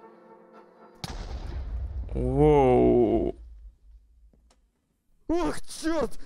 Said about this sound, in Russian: даже меня взрывной волной достало